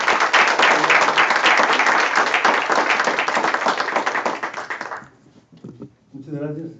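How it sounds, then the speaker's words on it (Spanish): Loud, dense applause from the audience at a law faculty event fills the room, then breaks off into quieter scattered sounds and a voice starting to speak. "recibamos con un muy fuerte aplauso"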